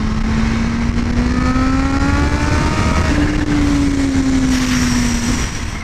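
A Kawasaki Z H2 motorcycle accelerating hard, its engine note climbing steadily through the gears, loud and close, with a continuous roar throughout.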